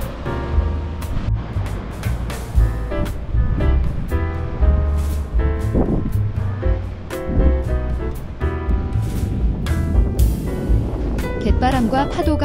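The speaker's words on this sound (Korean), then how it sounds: "갯바람과 파도가 바위에 부딪힐 때" Sea waves wash and crash continuously against the rocks of Seuldo islet in Korea, with rumbling surf and wind, while music plays over the top.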